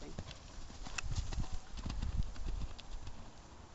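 A horse walking out on a hack, hooves clip-clopping in an irregular close rhythm, fairly quiet, with people talking faintly in the background.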